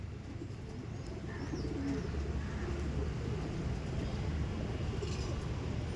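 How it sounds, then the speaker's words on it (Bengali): Flying pigeons, including teddy kamagar kaldom birds, coo in a loft, with low, throaty coos repeating close by over a constant hum of background noise. "জাস্ট কোয়ালিটিফুল পায়রা দাদার কাছে, ওড়ানের পায়রা।"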